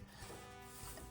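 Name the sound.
pencil stabbing at a sketchbook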